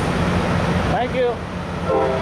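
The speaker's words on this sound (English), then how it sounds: "A Tri-Rail train departing." A Tri-Rail commuter train departs at Dania Beach, Florida, its horn sounding in short tonal blasts over a steady rumble of rolling stock nearby.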